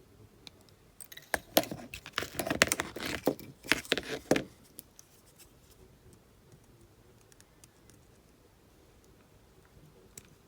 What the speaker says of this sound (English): Another tail here that needs cutting off.